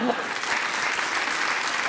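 Studio audience applause at a French late-night comedy talk show, a dense, steady wash of many hands clapping throughout, fairly even in loudness, with a brief voice near the start.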